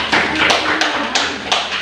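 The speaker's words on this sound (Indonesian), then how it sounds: "tepuk tangan untuk kelompok mereka dulu, Pak" Students in a classroom clap for a group about to present, a loud, close round of rapid clapping with a few sharper accented hits standing out from the steady patter.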